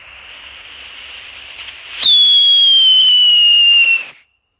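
A handheld whistling firecracker (Xplode Luftheuler) shrieks with a loud, steady high-pitched whistle for about two seconds, over a faint hiss, then cuts off abruptly into silence.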